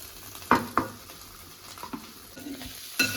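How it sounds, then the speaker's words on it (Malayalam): Chicken sizzles in a pan during its second round of frying for a traditional chicken roast, a soft steady crackle broken by a few sharp spatula scrapes and clinks against the pan. "ഇത് 2ാമത്തെ പ്രാവശ്യം ചിക്കൻ വറുത്തതായിരുന്നു"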